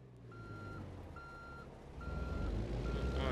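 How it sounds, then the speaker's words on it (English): Heavy truck hauling a tanker load in a truck-driving video game gives steady reversing beeps while backing up, four evenly spaced tones over a constant engine rumble that swells louder toward the end, with no talk. "Go ahead and get this thing backed up."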